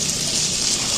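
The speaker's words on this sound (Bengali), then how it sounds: "আমি আতপ চালটায় জল দিয়ে দিচ্ছি" Water running steadily onto atap rice as it is covered for soaking, a continuous close hiss and splash lasting the whole moment with no talk.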